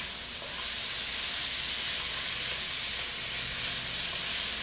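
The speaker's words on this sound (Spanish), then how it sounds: "Y vamos a sofreír" Garlic and pork sizzle steadily in a hot pan, a dense, even frying hiss that holds close and loud for the whole stretch with no voices over it.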